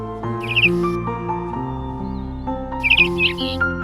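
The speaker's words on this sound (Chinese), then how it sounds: "我在山里这么多年，还是第一次听到这种鸟叫声呢。" A bird sings in a mountain forest in two short bursts of bright chirping trills, set against a steady musical background with layered sustained tones.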